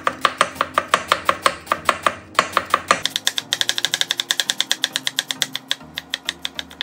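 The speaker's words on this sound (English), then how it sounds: "Slice the cabbage." A knife slices through cabbage on a cutting board in quick, even chops, a rapid loud run of crisp close strokes that briefly pauses and then resumes at a slightly faster pace, with no talking.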